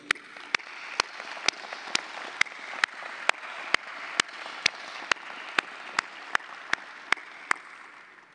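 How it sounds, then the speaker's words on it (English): Audience applause at a spring doctoral hooding ceremony: a steady wash of clapping from a crowd, with sharp, evenly spaced claps standing out roughly twice a second throughout. "Let us please give a round of applause to thank everyone who has been"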